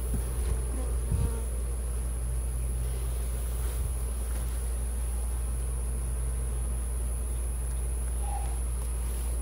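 Honey bees buzzing around an abandoned hive being opened for its first honey harvest, a steady low hum running throughout with a constant background drone and a few faint handling knocks.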